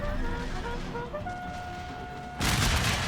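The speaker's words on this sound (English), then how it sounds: "Ooh, good volley from the horseman too." Musket volley from mounted cavalry in a large American Civil War battle in Total War Shogun 2, erupting as a loud, dense burst of gunfire near the end over a steady background of battle noise and musical tones.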